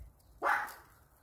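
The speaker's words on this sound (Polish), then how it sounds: "rozszczekała mi się teraz psinka, więc będzie niestety w tle słychać jej szczekanie." A small pet dog gives a single short bark, moderately close and alone against a quiet indoor background.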